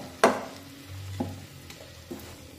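Stuffed green chillies frying in a kadhai, with a few sharp stirring scrapes and a low sizzle between them, close and fairly quiet.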